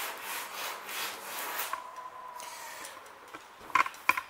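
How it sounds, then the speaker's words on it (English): Burrs being scraped off a plastic bumper part for a Wildy ATAK 120 kayak, heard as a few rough rubbing strokes early on, then short sharp scratchy clicks near the end, fairly faint and close with no talking. "All I'm doing at the moment is I'm just getting rid of some of the burrs."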